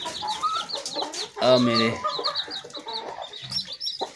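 Desi hens cluck and squawk close by, with thin peeping from small chicks, in a busy run of calls that briefly grows louder. Someone speaks over them.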